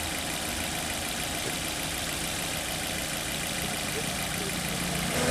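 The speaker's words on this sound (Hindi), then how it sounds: "मैं इसका एसी ऑन कर रहा हूँ यहाँ पे।" A car engine idles steadily with its air conditioner switched on, producing a constant broadband hum with no clear changes across the clip.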